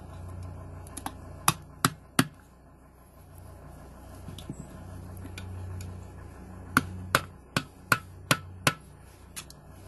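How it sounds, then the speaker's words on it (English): Sharp metallic taps of a hammer striking a screwdriver to pry an adapter off an air compressor on a Cat 6NZ engine, two short clusters of three and then about six evenly spaced, fairly close blows, no talk. "taking the screwdriver and kind of prying it here and there with a hammer"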